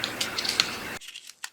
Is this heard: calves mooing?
no